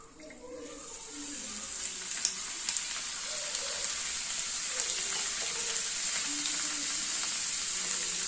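Moong dal hits hot oil and sets off a bright, even hiss of frying that holds steady and close, with faint crackles scattered through it.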